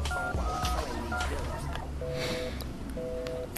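A telephone is dialed, a handful of short, clear dual-tone keypad beeps in a quick uneven sequence, heard over background noise and low, muffled voices.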